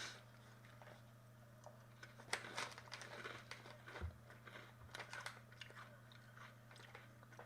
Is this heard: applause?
no